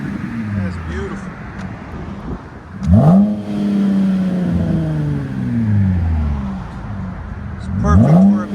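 A 2022 RAM 1500 Bighorn with a 3.6L V6 and Borla ProXS exhaust revs in two sharp bursts that rise and fall, with a steady idle rumble between them and people talking nearby.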